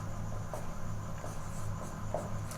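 Chalk or marker scratches on a board as figures are written out during a maths lesson on trigonometry, a few faint strokes over a steady background hum.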